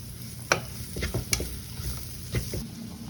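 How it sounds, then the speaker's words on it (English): Onions sizzle steadily in butter in a hot pan, with a few sharp scrapes and clicks of stirring on top; no one speaks. "you can hear those onions sizzling in the background"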